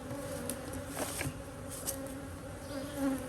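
Honeybees hum steadily around healthy two-frame split hives outdoors, a soft, even buzz with individual insects briefly droning closer, and no voices.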